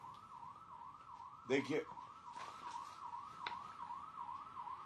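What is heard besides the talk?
siren of a vehicle on the road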